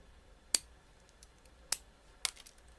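Three sharp, separate snips of scissors, crisp and close, spaced unevenly in an otherwise quiet room.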